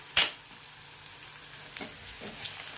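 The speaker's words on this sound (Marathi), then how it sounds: "बारीक कट केलेला एक कांदा आता याला छान फिरवून घ्यायचं आहे" Finely chopped onion frying and stirred in a pan, a steady close sizzle with a sharp scrape of the spoon near the start and a couple of softer stirring strokes later.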